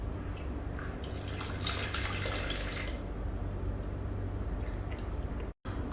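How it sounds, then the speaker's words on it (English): Water runs and trickles into the reservoir of a professional coolsculpting machine, a steady splashing flow over a low hum, with a brief louder gush early on and a short cut near the end. "Now we inject water."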